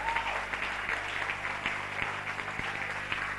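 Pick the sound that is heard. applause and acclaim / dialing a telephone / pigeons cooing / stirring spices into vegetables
applause and acclaim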